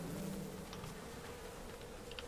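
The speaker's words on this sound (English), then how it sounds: "Aw, crap, bees." Bees buzz in Fortnite as a steady, droning hum that fills the whole stretch, ending with a sudden louder burst.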